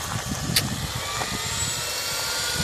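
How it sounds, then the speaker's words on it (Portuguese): An Align T-Rex 550 RC helicopter flies nearby on a first flight, giving a steady whirring rotor and motor drone with a continuous buzzing hum that holds level throughout, with no talk. "Olha o barulho, mano. Parece um helicóptero mesmo."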